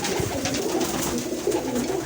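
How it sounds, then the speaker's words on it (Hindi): A flock of breeder pigeons coos continuously up close, low soft throaty calls overlapping in a steady murmur with faint rustling. "ये अपने ब्रीडर कबूतर हैं सारे, ये कबूतर हैं"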